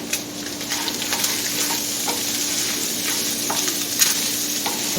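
Meat browning in a pan, a constant close sizzle with scattered scraping and clicking of a utensil stirring, no voices over it, with one louder knock near the end.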